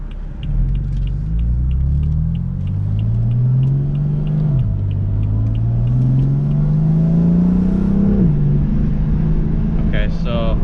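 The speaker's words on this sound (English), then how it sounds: "You can definitely hear the turbo spool quite a bit more." A tuned BMW M3 with GTS tune and aftermarket exhaust drones loudly from inside the cabin, its engine note climbing in two long rising sweeps with turbo spool, each dropping off sharply as the revs fall.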